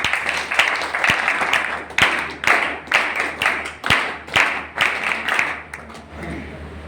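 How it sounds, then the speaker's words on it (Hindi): A small group in a rehabilitation centre claps to welcome a speaker, sharp uneven hand claps arriving in repeated bursts that fade between pulses, near and fairly loud. "इसलिए सारे भाई जोरदार ताली से स्वागत करेंगे विकास भाई का"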